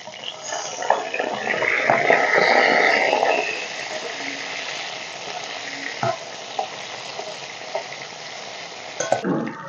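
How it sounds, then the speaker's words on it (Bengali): Katla fish pieces frying in mustard oil in a wok give a steady, fairly loud sizzle that swells early and then settles into a softer crackle, with a few sharp clatters of a utensil near the end. "মাছগুলো ভাজা হয়ে গেছে, বেশ লাল লাল করে ভেজে নিয়েছি"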